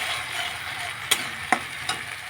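Onion going into a hot pan for a Bengali fish curry of snakehead fish, with a steady background sizzle and three sharp stirring scrapes standing out, close and alone with no talk.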